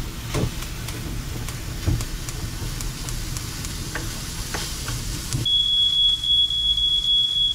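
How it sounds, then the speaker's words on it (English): A kitchen smoke alarm beeps in a loud steady high tone after a stretch of sizzling as steak sears in a pan, the frying continuing beneath the alarm. "before the alarm bugs me again"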